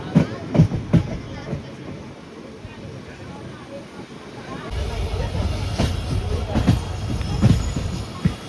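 Twelve-coach passenger train on the Madurai to Rameswaram route, turning as it rolls slowly toward a platform: steady low rumble with wind noise and faint rhythmic clatter, people talking over it.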